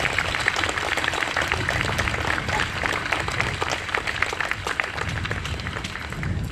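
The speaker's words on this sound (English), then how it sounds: "Let's give them another round of applause, please." A crowd at an outdoor Memorial Day ceremony in Shrewsbury, Massachusetts applauds, giving a dense, even wash of clapping that holds steady from start to finish.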